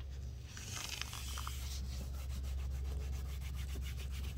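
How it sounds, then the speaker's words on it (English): A cloth wipes trim-restoring product across faded black car trim in a close, steady rubbing sound, soft and continuous over a low background hum. "So just do a nice, nice wiping of it."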